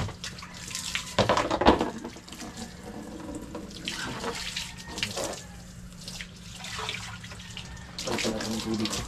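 Water pours into a container in uneven surges and splashes, moderately close, with faint voices and background noise around it.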